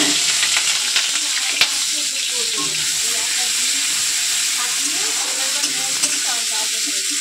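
Chopped garlic, chili, onion and tomato hit hot oil in a pan and keep up a loud, steady sizzle and hiss, with occasional stirring clatter. No talking is heard.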